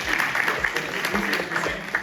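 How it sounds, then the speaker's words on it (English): An audience applauds at an NIL education summit at Bowie State, with scattered claps over a murmuring room and some voices mixed in. "Round of applause, round of applause."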